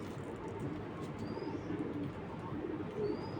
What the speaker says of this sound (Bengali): এই দেখুন ব্রিডিং পেয়ার কবুতর